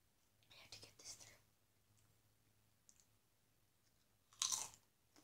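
Crunchy chewing and biting of potato chips topped with hot sauce, close and quiet, with a few soft crunch bursts and one louder crunch near the end, with faint whispery breaths between.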